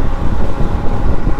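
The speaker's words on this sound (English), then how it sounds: "when you're going this fast, the wind is so loud you can't hear nothing" Wind roars past the rider of an AUSOM Gallop 52V 2400W dual-motor electric scooter cruising fast, a loud, dense, continuous buffeting rush that fills the sound with no voices.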